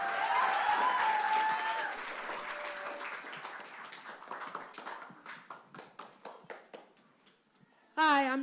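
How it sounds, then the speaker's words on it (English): Applause at a camp event for children who stutter starts as a full, dense round with some voices over it, then thins to scattered individual claps that fade out, followed by a brief burst of speech. "Can we give another round of applause for Jacob and Van?"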